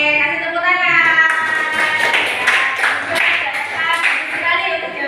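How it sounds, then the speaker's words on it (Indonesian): Students in a classroom clap their hands together in a burst of applause that lasts several seconds, with a teacher's voice heard before and around the clapping. "Oke, kasih tepuk tangan."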